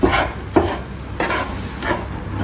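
Ingredients for protein laddus are stirred and roasted in ghee, with four rhythmic scraping strokes over a faint, steady sizzle, close up and with no talking.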